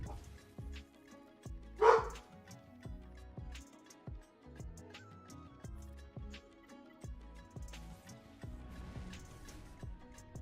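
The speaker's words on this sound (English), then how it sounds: "had to check on the dog. He was barking his head off." A dog barks indoors, one loud bark standing out among a few fainter yips and thumps under a low room hum and muffled movement.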